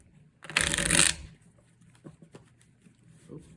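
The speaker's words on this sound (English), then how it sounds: "Ignore my bad shuffling there." A deck of playing cards is shuffled once in a short, loud riffling burst close by, followed by quiet handling noise and soft murmuring.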